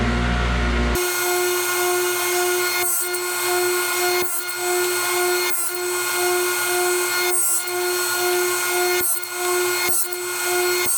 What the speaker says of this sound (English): I'm ready to cut my finger joints